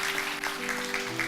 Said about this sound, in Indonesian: Tepuk tangan dulu buat Allah kita,